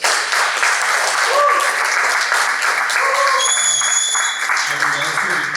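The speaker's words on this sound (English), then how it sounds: "Give them a big round of applause." An audience at a Dubai Toastmasters Club meeting applauds its newly installed officers with sustained, dense clapping that stays loud throughout, with a few voices and whistles rising over the clapping.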